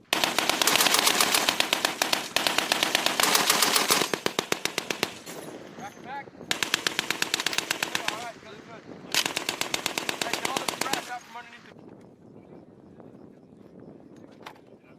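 An M2A1 heavy machine gun fires on a Marine live-fire range in loud, close bursts of rapid shots. Four long strings are separated by brief pauses, then a few final rounds trail off into quiet.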